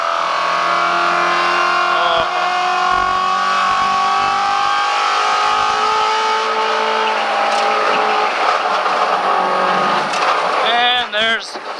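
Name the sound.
car tires squealing at grip limit on track, Cup 2 tires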